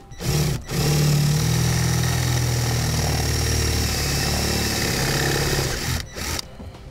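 A drill bores a 3/8 inch pilot hole into a 2012 Toyota, with a loud, steady, whining motor roar that runs for about five seconds between brief pauses, close and with nobody talking.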